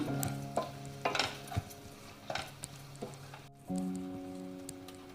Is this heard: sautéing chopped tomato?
yes